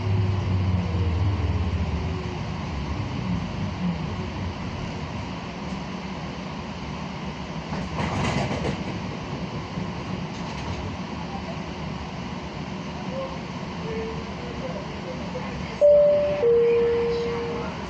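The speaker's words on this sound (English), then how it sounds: "Train is about to move." Siemens light rail train on the CATS LYNX line in Charlotte, rumbling steadily from inside the car, with a brief louder swell midway and a short tone near the end before motion.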